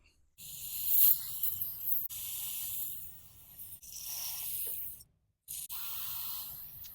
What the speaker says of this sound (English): We'll try to use a little bit of carb cleaner on this